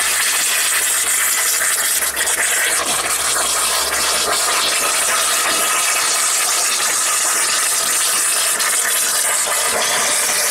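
Purge valves on a steam launch blowing off water, a continuous loud hissing, spraying rush that stays steady throughout with no voices.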